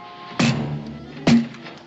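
Two heavy thuds about a second apart on a wooden door, close and fairly loud, with a low hum underneath and no speech.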